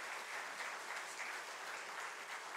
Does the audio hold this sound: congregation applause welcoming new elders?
yes